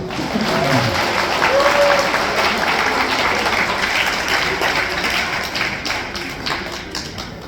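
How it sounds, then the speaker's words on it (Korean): Wedding guests applaud the groom inside a Seoul wedding hall, a dense, steady wash of clapping that holds loud throughout and thins slightly at the end. "신랑한테 박수 한번 쳐주세요"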